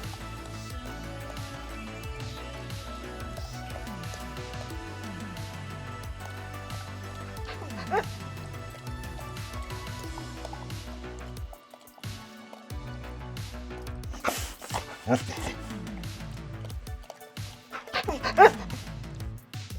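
Hounds bark, yip and whimper in repeated bursts that turn louder and more excited toward the end.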